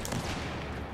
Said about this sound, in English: Where's those shots? That's where those shots come from.